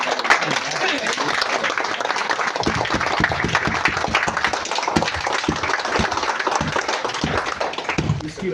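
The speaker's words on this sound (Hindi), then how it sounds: "आपकी तालियों की आवाज कम नहीं होनी चाहिए।" An audience claps continuously and densely to welcome a speaker to the stage at an indoor event, steady loud applause lasting throughout, with a few voices beneath.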